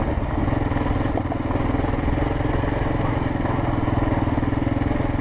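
Kawasaki KLR650 motorcycle ridden in first or second gear over a bumpy trail, its engine a steady, loud, close drone with rattling clatter throughout and no talk.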